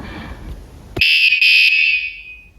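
A cheap wireless motorcycle alarm bought from AliExpress goes off when touched: after a faint background, a loud, piercing electronic tone blares for about a second and a half, pulsing briefly before fading out.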